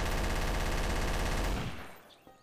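Machine gun fire in Garry's Mod rattles loud and continuous for about a second and a half, then cuts off abruptly, leaving a short fading tail.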